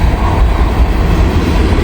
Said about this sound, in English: those double DPUs are really working, and they are really pushing and pulling this train